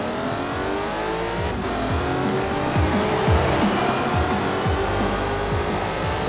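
Jaguar XKR-S sports car in Forza Horizon 4, its engine droning steadily while the tires squeal repeatedly in sharp, rising chirps, loud and close throughout with no talking.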